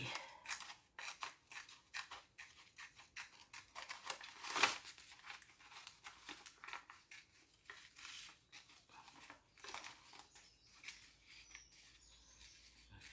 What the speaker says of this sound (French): On va découper ici.